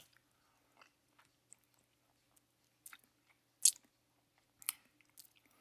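Crunchy bites and wet chewing on a chili powder lollipop with a gum center, sparse and close, with several sharp crunches and quiet gaps between them.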